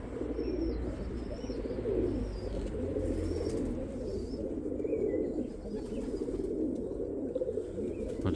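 Pigeons coo steadily in a loft, light-coloured and white-tailed birds among them, their low murmuring continuous and fairly close, with occasional faint higher chirps over it.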